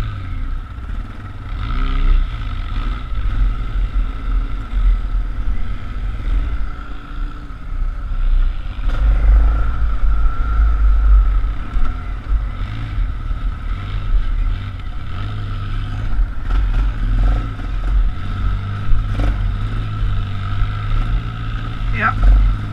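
ATV engines at an off-road rally at Fox Mountain, a close, loud engine drone that swells and revs unevenly over rough ground, with people talking over it.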